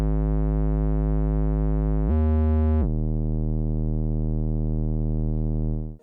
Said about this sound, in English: After that, I added this bass.